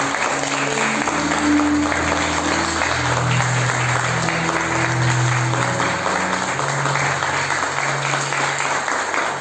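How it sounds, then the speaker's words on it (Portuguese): Church congregation applauding steadily throughout, a dense wash of clapping under sustained music with held tones, no pauses in the applause. "vamos aplaudir o nosso Deus, o nosso Senhor"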